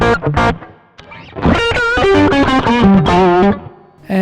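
Electric guitar through a Boss GT-100 multi-effects processor set to spring reverb plays a bluesy phrase of sustained notes and bends, with a washy, springy reverb tail ringing after each note; no voices.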